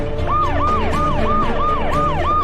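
An ambulance siren wails loud and close, cycling rapidly through about seven rising and falling sweeps in quick succession over a continuous traffic rumble, with no speech.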